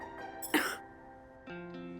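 One short, sharp cough from a person with a slight cold, close to the mic, followed by a soft tonal background hum.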